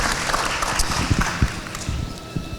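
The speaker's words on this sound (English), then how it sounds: "Let's give them a round of applause." Applause from an audience saluting military veterans, a steady broadband patter of many hands clapping at moderate distance for a few seconds, with no voices over it.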